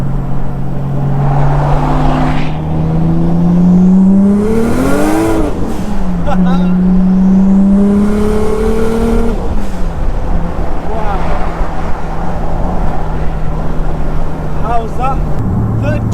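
A rear-wheel-drive 700 bhp R33 sports car on winter tyres revs up and accelerates in third gear at full boost, rising in pitch with loud, sustained roar, then settles; voices speak faintly in the background.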